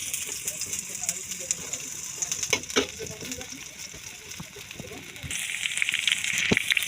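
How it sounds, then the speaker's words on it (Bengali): Onion going into hot oil in a pan on a village stove while cooking haleem: a soft crackling sizzle with scattered pops, swelling into a brighter hiss near the end. "এবার তেলটা দিয়ে দিলাম। এবার পেঁয়াজটা দিয়ে দেব।"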